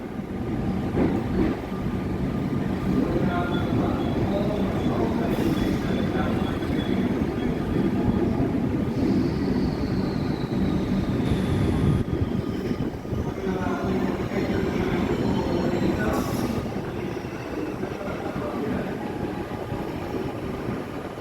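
Melbourne suburban train pulling out of Flinders Street station on a Friday afternoon, a steady loud rumble of wheels and motors with platform echo and a rising whine, continuous for the whole stretch.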